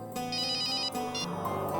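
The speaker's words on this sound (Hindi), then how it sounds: "लगता है किसी आशिक का फोन आया है" A telephone ringtone plays throughout in a TV crime drama scene, a steady electronic ringing pattern repeating several times, loud and continuous with no talk over it.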